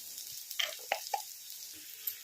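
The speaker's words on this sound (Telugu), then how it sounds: "ఈ అల్లం వెల్లుల్లి పేస్ట్ని అయితే మంచిగా వేయించుకుందాం ఒక రెండు నిమిషాలు వేయించుకోండి" Ginger garlic paste frying with onions in a pan: a low steady sizzle with a few soft pops and crackles, close and quiet, with no talking.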